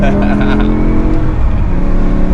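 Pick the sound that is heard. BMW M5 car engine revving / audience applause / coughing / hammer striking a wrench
BMW M5 car engine revving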